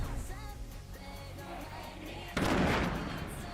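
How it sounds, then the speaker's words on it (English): A grenade blast in Fortnite Save the World bursts out loud and broad partway through, preceded by a busy bed of game effects and music, the explosion's noisy rumble decaying over the final second. "Oh my god, those grenades."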